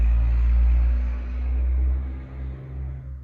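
A truck rumbling past outside, a deep steady low rumble that swells and eases, heard alone without talk.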